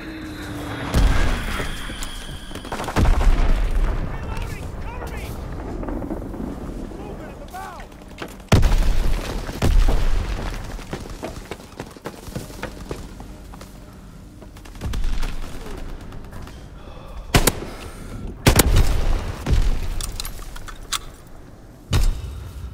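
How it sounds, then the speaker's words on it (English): Azon bomb explosions in the World War II shooter Call of Duty WWII, several loud separated blasts and crackling gunfire bursts spaced over the stretch, with radio-style voice callouts between them. "Dropping Azon bomb."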